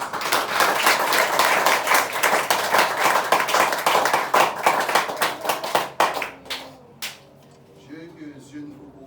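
A church congregation claps together in a dense, rapid burst of handclaps that fills the space, then thins out into scattered claps before fading into quieter room sound near the end.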